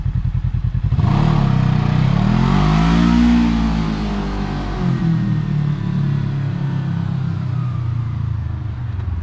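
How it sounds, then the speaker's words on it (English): A Kawasaki KRX 1000 UTV with stock exhaust idles with a rough burble, then roars as it takes off and revs up, pulling away with a throaty, fading drone. "quick takeoff video, stock exhaust"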